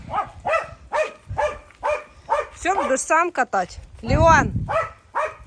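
A dog yaps and barks repeatedly in quick bursts close by, while a person speaks over and between the barks.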